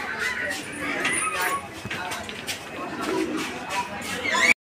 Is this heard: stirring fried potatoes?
no